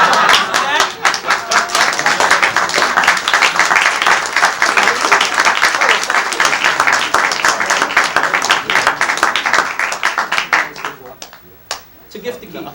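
Audience in the parlour of a Magic Castle show bursts into dense, sustained applause after a magic trick, clapping loud and steady for about ten seconds before thinning out to a few last claps.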